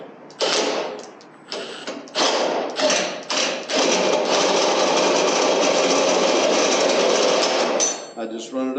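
A Milwaukee drill spinning a socket attachment, with several short whirring bursts and then one long sustained run, loud and close, ending with a few clicks.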